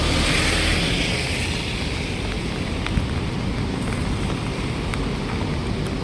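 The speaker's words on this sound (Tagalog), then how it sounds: "Sayang ang ulan." Steady heavy rain hisses without pause, a dense wash of noise with a faint occasional tap, close and loud.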